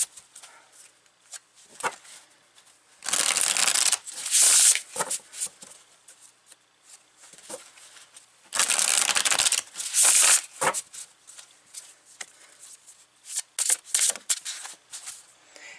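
Two bursts of oracle cards being shuffled, Light Seers and Sacred Creators Oracle decks, each a crisp, riffling flutter lasting about two seconds, separated by quieter handling and soft card taps.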